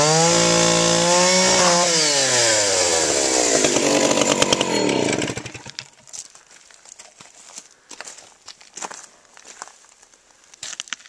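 A chainsaw cuts across fence posts standing in for legs, a loud steady roar with rising and falling harmonics for about five seconds before cutting off, followed by quieter scattered knocks and rustles.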